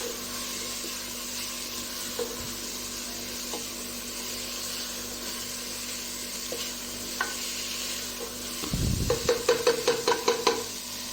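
Spice mixture of coriander powder and black pepper frying in a pan with a steady hiss, ending in a quick run of rhythmic spatula scrapes and taps.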